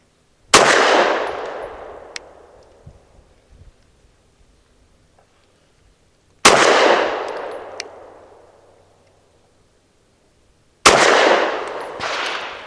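Three loud, sharp pistol shots from a SAR9 SC Gen 3 firing Liberty 100 grain frangible ammunition, each crack trailing a long reverberant decay, spaced several seconds apart outdoors.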